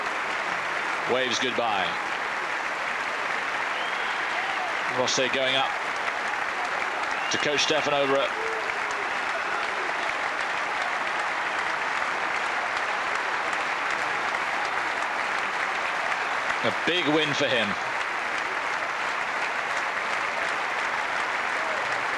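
At Roland Garros, a large crowd gives Stefan Edberg sustained farewell applause, a dense, even roar of clapping that fills the whole stretch while a commentator talks over it intermittently.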